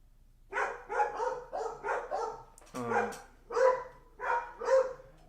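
Dogs bark in a quick series of about nine sharp, fairly close woofs, spaced in a loose rhythm with brief gaps, with no talking.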